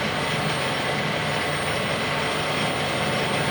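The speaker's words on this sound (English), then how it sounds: "So we'll do a cut here, and we'll see how it goes again." Clausing variable-speed lathe running while taking a cut, a dense constant whirring roar with a faint high whine, steady and loud throughout with no talking.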